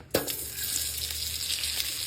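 Butter melts and sizzles in a frying pan with a steady, close hiss, opened by a brief metallic clink near the start.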